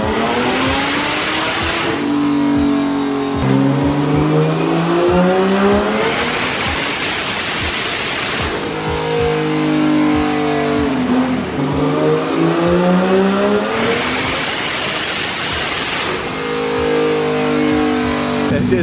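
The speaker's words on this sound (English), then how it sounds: "By just the first pull, you can tell how much power this car has." A 1000 hp turbocharged BMW E30 roars on a dyno through repeated full-throttle pulls, the engine pitch climbing in long loud sweeps, dropping back between runs.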